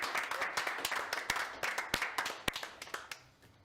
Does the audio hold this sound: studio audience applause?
yes